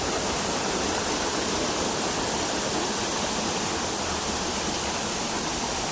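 A waterfall pours in a continuous, dense roar of rushing water, loud and unchanging from start to finish with no voices.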